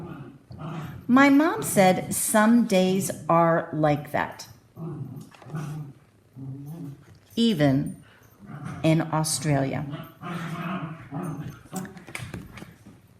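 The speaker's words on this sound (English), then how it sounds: "if you heard some noise in the background, they were my terrible, horrible, naughty little puppies" Puppies bark, whimper and growl in the background indoors, faint and intermittent beneath a woman reading aloud close to the microphone.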